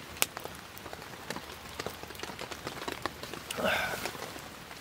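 Rain patters steadily on a campsite under cedars on a wet New Year's Eve, with scattered louder drops hitting nearby surfaces and a brief rustle midway, fairly soft and without speech.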